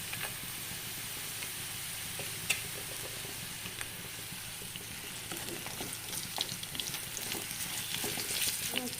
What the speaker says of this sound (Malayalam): എണ്ണ ഒഴിച്ചു സൺഫ്ലവർ ഓയിൽ ഒഴിച്ചു നേരെ നമ്മൾ വെളുത്തുള്ളി ഇട്ടു